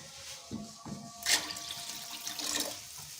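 Water is poured into a pot of chicken hot and sour soup, a close, splashing gush that starts after a few soft clunks and runs on in uneven surges.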